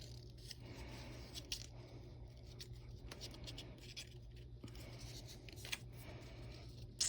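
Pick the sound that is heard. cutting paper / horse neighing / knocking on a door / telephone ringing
cutting paper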